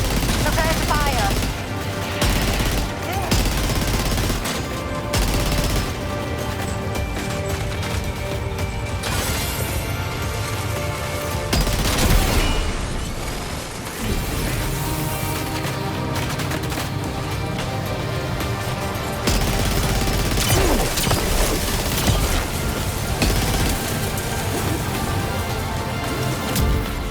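Rapid bursts of gunfire from soldiers in Death Stranding 2 crackle nonstop through a dense battle, with mechanical clanks and impacts layered among the shots under a constant wash of sound.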